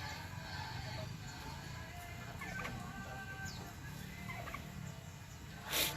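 Turkey gobbling in a rapid rattling burst, close and fairly loud over a steady background hum, with a sharper call near the end.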